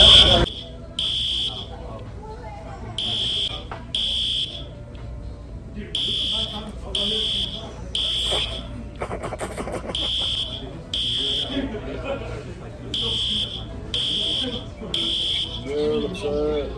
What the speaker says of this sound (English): This is the fire alarm reaction video inside McDonald's challenge.